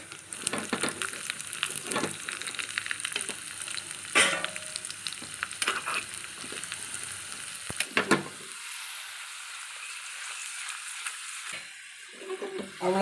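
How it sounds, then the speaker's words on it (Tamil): Cashews and raisins fry in ghee in a kadai, giving a steady close sizzle broken by occasional ladle scrapes and clinks, then the frying drops to near silence before a brief final stir. "இப்போ முந்திரி பருப்பை போட்டு நம்ம நல்லா வறுத்து எடுத்துக்கலாம்"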